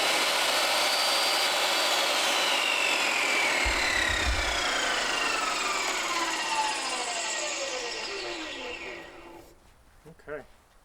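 Power saw cutting a back bevel into crown molding, a long steady high whine with descending pitch sweeps as the blade works through, loud and close, then winding down near the end.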